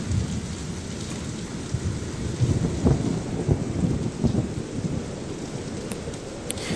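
Heavy rain pours steadily on a surface while low thunder rumbles and rolls through, a dense, continuous stormy wash with no voices.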